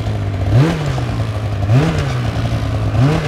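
A snowmobile engine on hard, firm snow, revved three times in short throttle blips about a second apart over a steady idle, close and loud.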